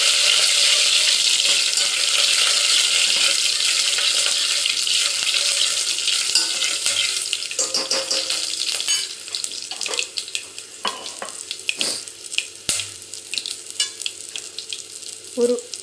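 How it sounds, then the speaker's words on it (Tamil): Curry leaves and garlic cloves sautéed in hot oil in a pan, a loud steady sizzle that slowly settles into sputtering, crackling pops as the spices fry, heard close without talk. "கருவேப்பிலை, ஒரு 10 பல்லு பூண்டு இதெல்லாம் போட்டு நல்லா வதக்கிக்கணும்."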